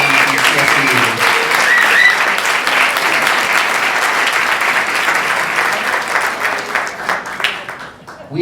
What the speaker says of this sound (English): Let's have a round of applause for our students and marching band from CSAE